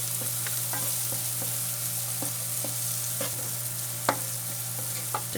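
White onion sautés in a hot pan while cooking chicken lomi, giving a steady, close sizzle with occasional sharp clicks of a utensil stirring, and no talking.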